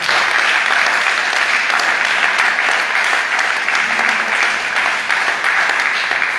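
A church congregation claps together in a dense, continuous burst of applause that holds loud and even throughout.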